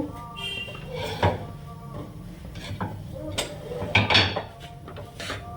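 Ground pea paste being stirred in a pan on a gas stove, with a handful of scraping and clunking utensil knocks at uneven intervals over a low kitchen background.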